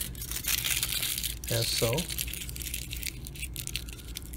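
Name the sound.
lightly crumpling aluminum foil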